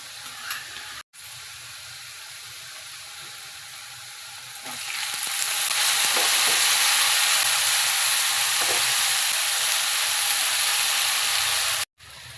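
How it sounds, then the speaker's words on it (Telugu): Chopped sorrel leaves (chukka kura) land in hot tempering in a pan, setting off a loud, steady sizzle that swells sharply partway through and holds as a bright continuous hiss. "ఇప్పుడు ఇందులో కట్ చేసి పెట్టుకున్న చుక్క కూరను వేయాలండి."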